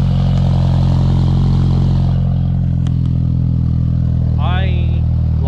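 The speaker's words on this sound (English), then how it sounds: "I like nice sounding exhaust." Budget Pontiac Phoenix idling with a newly fitted Magnaflow muffler, a loud steady low exhaust drone throughout, with a brief voice partway through.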